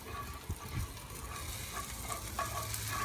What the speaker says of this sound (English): First thing that I'm gonna add is the garlic and the ginger. Go ahead and we'll stir that around a little bit.